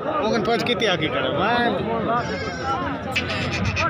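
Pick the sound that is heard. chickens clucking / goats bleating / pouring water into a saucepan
goats bleating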